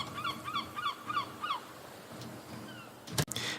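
Several gulls call on a beach in a quick run of repeated cries, fairly faint over a soft outdoor wash, followed by a brief clunk.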